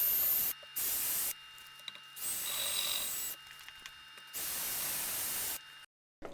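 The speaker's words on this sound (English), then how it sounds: "I'll also spray some brake cleaner in it." Brake cleaner sprayed into the crankcase of a 2003 Ducati 750SS ie two-valve engine: two long, loud hissing bursts with brief pauses between them, close up, then a sudden stop.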